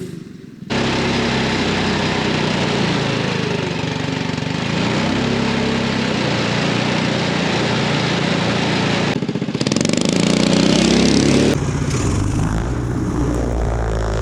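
Small engine of a cheap homemade kid-safe snowmobile with an automatic clutch that downshifts on hills, droning steadily and close at a constant pitch, then growing louder and rougher for a couple of seconds before settling.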